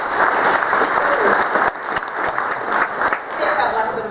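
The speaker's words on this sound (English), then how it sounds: "That felt like a bit of a forced clap." Audience applause welcoming Julia at the opening address of a pasture summit, a steady, somewhat subdued round of clapping from a seated crowd that dips briefly midway and carries on to the end.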